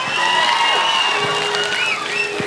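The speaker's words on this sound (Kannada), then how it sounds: "ಸೂರ್ಯ ಅವರಂತೂ ದೊಡ್ಡ ಚಪ್ಪಾಳೆ" An audience claps and cheers for Surya at an evening stage event in Mangaluru, a short, loud burst of applause from a crowd close by.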